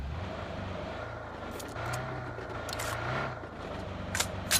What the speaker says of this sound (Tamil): Get in the car.